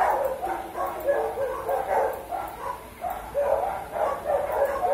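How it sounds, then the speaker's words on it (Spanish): Several dogs being walked outside bark and yip in repeated bursts, steady and moderately loud through the whole stretch, with a whimpering edge to some calls. "creo que alguien está paseando a sus perros."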